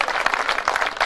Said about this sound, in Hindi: अगर आपकी तालियां मुझे मिले तो।